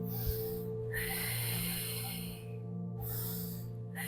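Slow, deep breaths drawn in and let out at a steady pace, each long airy inhale and exhale separated by brief pauses, close and quiet.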